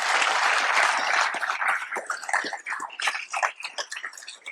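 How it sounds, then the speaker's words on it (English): A dense burst of audience applause fills a Yale innovation event hall after opening remarks, loud for about a second and a half, then thinning into scattered, uneven claps that fade out. "you really shouldn't be applauding for a mission statement"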